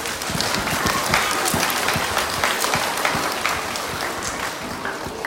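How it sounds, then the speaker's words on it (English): A school gathering of students gives sustained, dense clapping for the student librarians, loud and steady throughout with no voices over it. "So can we give them a big clap"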